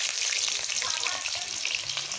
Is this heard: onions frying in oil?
yes